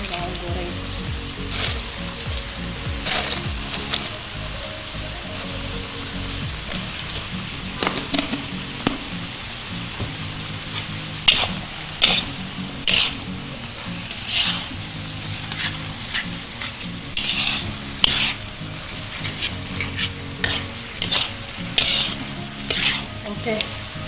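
Vegetables with fried shallots stir-frying in a pan: continuous sizzling with scraping and clinking stirring strokes and spatula taps against the pan, close and fairly steady, with occasional sharper clatters.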